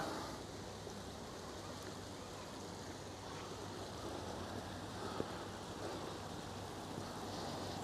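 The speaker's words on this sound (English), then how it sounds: "And this smashing wee waterfall, which has been here for years" A small garden waterfall run by a pump gives a constant, gentle splashing trickle nearby, steady for the whole stretch with one brief tap partway through and no talking.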